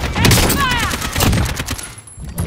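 Rapid bursts of gunfire in the video game Call of Duty: Warzone, loud and dense volleys filling the whole stretch, with a voice calling out briefly among the shots.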